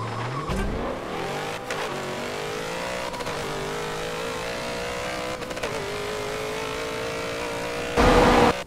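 Plymouth Prowler dragster in Forza 7 launching hard, engine rising steadily through several gear changes with brief shift breaks, loud and continuous, ending in a noisy burst.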